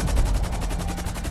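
Rapid sustained automatic fire from a micro SMG in GTA Online, a dense, unbroken burst of evenly spaced shots that rattles loud and close for its whole length.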